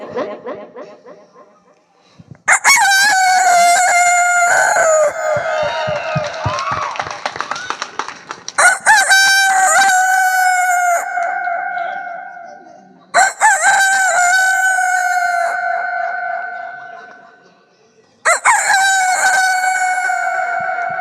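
A man imitates a rooster crowing on stage, four long, loud, drawn-out crows separated by short pauses, with some audience clapping and laughter between them.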